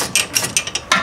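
A ratchet wrench works loose the brake caliper bolts on a 2010-2013 Mazda 3, giving several quick bursts of clicking spaced through about a second, close by with no talking.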